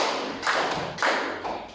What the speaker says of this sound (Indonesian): Tepuk tangan buat Elvina.